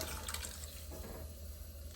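Liquid is poured into a pot of potato soup made with gold potatoes. A soft, continuous watery pour and splash runs steadily at close range with no speech.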